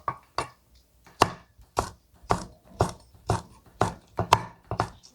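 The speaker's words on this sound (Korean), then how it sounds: "최대한 가늘게 어슷 썰어서" Sharp knife chopping chili peppers into thin diagonal slices for a kimchi garnish, about a dozen crisp, evenly spaced cuts against a board, close and clear with no talk.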